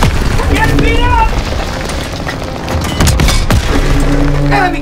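Heavy gunfire and a booming tank explosion in the World War II shooter Call of Duty: WWII, with dense rattling bursts and blasts running throughout, under shouted voices and game music.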